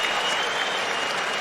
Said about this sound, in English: an appreciative crowd here in Vegas